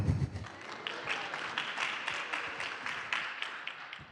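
Audience at a morning community meeting in Kansas City applauding and cheering as a nonprofit director is called up, steady dense clapping throughout with a louder burst at the start, no talk.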